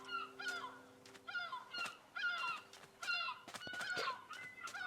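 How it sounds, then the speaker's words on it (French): Seagull cries from Minecraft sounding over the sea: repeated harsh squawking calls in short bursts, fairly faint, with no talk. "petit bruit de mouette"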